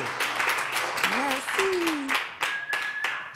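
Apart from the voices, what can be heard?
audience applauding a singer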